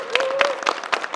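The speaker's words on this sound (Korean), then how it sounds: "박수 다시 한번 주시면" An audience at a regional cultural arts education meeting applauds briefly, a short wash of scattered clapping with a faint sustained tone running underneath.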